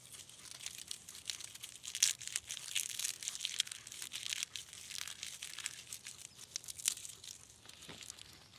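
Dry, coarse, airy tinder gathered for a survival fire is peeled apart by hand, giving soft, continuous crinkly tearing and crackling close by, quiet and without speech.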